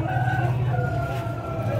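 Chickens at a busy poultry market give short clucks and drawn-out calls close by, over a constant low murmur of market noise.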